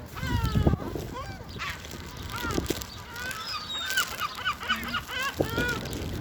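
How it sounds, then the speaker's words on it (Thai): Geese honk repeatedly at close range, loud and overlapping, with people talking in the background. "มาดูห่านตัวนี้มันรอ"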